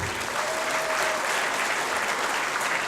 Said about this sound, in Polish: jeszcze raz proszę o duże brawa